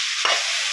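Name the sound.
boiled gokarakaya sizzling in oil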